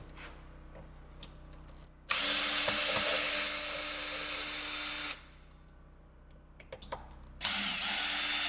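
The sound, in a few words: removing screws from a doorknob with a power drill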